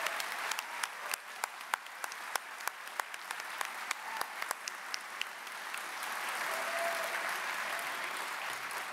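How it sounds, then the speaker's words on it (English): Applause from an audience at a Western Heritage Awards induction ceremony, a steady wash of many hands clapping at moderate distance, holding evenly for several seconds without talk. "Please share a round of applause in honoring my father, Dean Smith."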